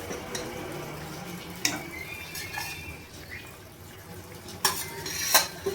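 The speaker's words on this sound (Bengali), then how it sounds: "এইভাবে আমি সমস্ত মাছ দিয়ে দেবো" Hilsa fish pieces added to a bubbling curry with pumpkin and eggplant in a pot, soft simmering under a few sharp utensil clinks and scrapes against the pot.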